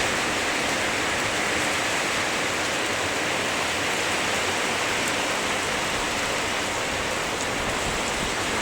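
Heavy rain pours down steadily on rubber trees, a dense unbroken hiss that stays loud and even throughout with no voices.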